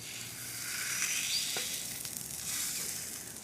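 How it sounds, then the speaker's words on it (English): Steady, close sizzling of a marbled steak frying in a hot pan, a continuous crackling hiss with no talking. "put this on and see if we get a sizzle"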